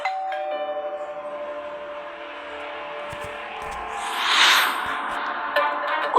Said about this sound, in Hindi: अगले ही पल फिर से डोरबेल की आवाज आई।